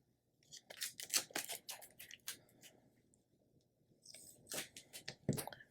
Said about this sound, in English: I put some Super Hold Scotch tape down